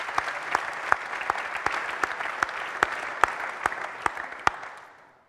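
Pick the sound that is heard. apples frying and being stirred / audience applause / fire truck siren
audience applause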